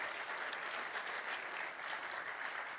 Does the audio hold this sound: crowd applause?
yes